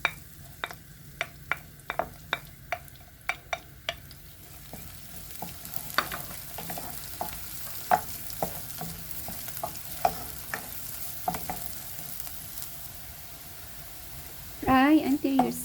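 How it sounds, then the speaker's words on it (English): Garlic fries in olive oil under a soft, steady sizzle, broken by a quick run of sharp spatula taps against the pan and then sparser clicks, with a brief burst of louder stirring at the very end. "Put olive oil. Let's fry our garlic first."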